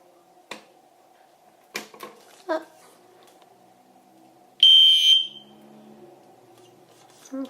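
A ceiling smoke detector in a building's fire alarm system test sounds a short, shrill electronic beep burst, after scattered knocks and taps from the test pole and a faint steady hum.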